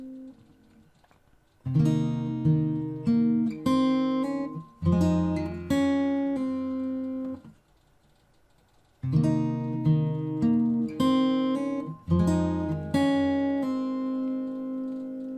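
Fingerstyle acoustic guitar plays bar 23 of a piece: plucked notes and gentle strummed chords in two phrases separated by a short pause, close and clear with no talking.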